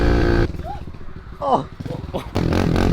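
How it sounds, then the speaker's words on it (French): Motocross bike revving and pulling away near a cross track, a loud engine roar with bursts and cuts, while voices exclaim over it. "C'est une motocross, donc c'est fait pour aller sur un terrain de cross."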